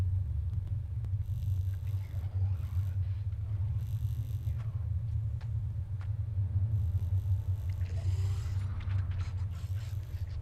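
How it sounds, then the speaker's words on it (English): A growling monster in the horror game Hollow Body gives off a continuous deep, heavy rumble that stays loud and steady, with faint scraping and mechanical noises over the top. "There's a growly monster in there. I hear and see you."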